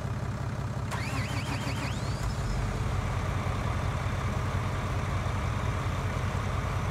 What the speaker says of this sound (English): let's go ahead and fire up the tractor